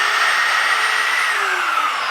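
A Rems Cento pipe cutter reams and deburrs the end of a freshly cut pipe, giving a steady, loud whirring grind that holds evenly throughout with a slight drop in pitch toward the end, with no talking.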